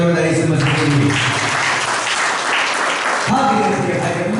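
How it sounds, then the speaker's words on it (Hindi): A church congregation claps loudly and continuously for Jesus Christ at a Palm Sunday service, dense steady applause mixed with cheering voices, swelling near the end. "और ताली बजाओ जोरदार यीशु मसीह के लिए।"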